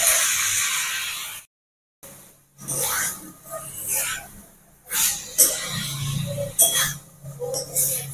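Already-fried vegetables go into a hot pan of sautéed leaves, giving uneven bursts of hissing sizzle and scraping, with a short silent gap early on.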